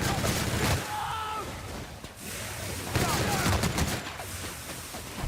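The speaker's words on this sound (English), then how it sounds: "I can't even stay shooting this because the recoil's crazy" Rapid, heavy-recoil gunfire in The Outer Worlds rattles in dense bursts throughout, loud and close, mixed with game effects and a voice talking over it.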